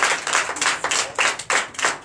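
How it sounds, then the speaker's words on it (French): In a Sunday church service in Comè, Benin, a congregation claps in acclamation, sharp bursts of many hands striking together in a regular beat, about eight claps in just over two seconds, close and loud with no voices. "Donnez l'acclamation de Christ."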